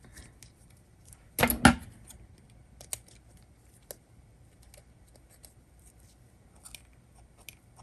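Scissors cut through crochet yarn in two quick, close snips, followed by a few faint scattered clicks in a quiet room.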